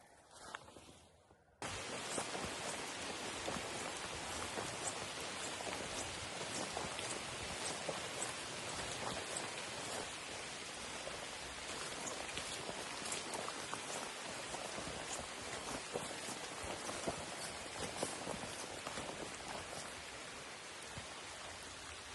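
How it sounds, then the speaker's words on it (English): Steady rain pattering on trees along Hadrian's Wall, a dense continuous hiss of drops on leaves and branches that starts abruptly after a brief quiet moment and carries on evenly. "The sound of raindrops on the trees."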